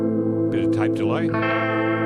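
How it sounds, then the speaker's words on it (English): Electric guitar with higher-output pickups played through a Vox AV30 amp with a 10-inch speaker, tape delay engaged; a sustained chord with a few picked notes on top trails into smeared, repeating echoes. "Tape delay."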